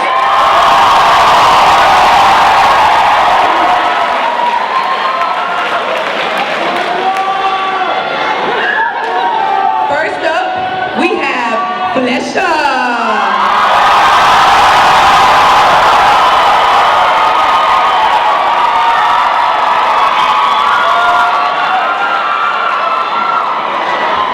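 An audience at the 2012 Miss Hendrix pageant roars with cheers, whoops and applause for the contestants, a loud sustained crowd din that eases briefly midway before swelling again.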